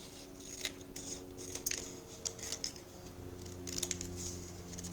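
Scissors trimming a paper sketch strip, a series of crisp close snips spaced irregularly with soft paper rustle between, in a quiet room.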